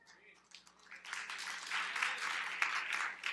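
A church congregation breaks into applause that builds from scattered claps into a dense, lively ovation, fairly loud and sustained, with voices mixed in.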